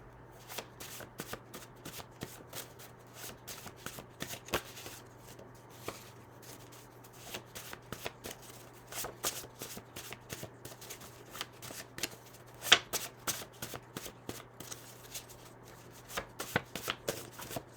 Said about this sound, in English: I'm going to close my eyes, shuffle, and pick from the deck.